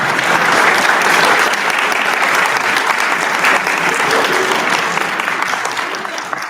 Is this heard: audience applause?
yes